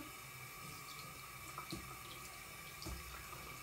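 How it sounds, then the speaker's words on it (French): Cool tap water running steadily into a sink to wet a washcloth, faint and continuous, with a few small splashes and no talk. "Je prends un gant avec de l'eau fraîche."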